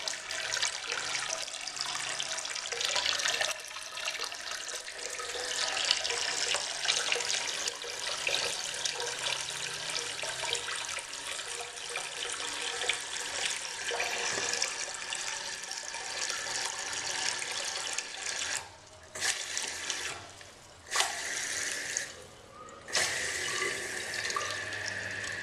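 A 2012 American Standard H2Option toilet tank refills after a half flush, a steady broadband rush of running water that carries on close and loud for most of the stretch, broken by a few brief dips near the end.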